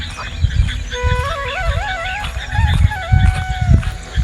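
Sparrows chirp in a village during a rainstorm, giving quick stepped whistling trills for a few seconds over low rumbling and thumping background noise.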